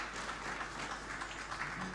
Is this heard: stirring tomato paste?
no